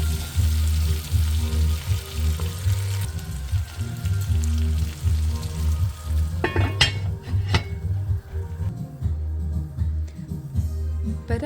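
Kosta greens and potatoes frying in hot oil with a steady, loud sizzle, broken by a few sharp clinks and scrapes of a utensil against the pan near the end.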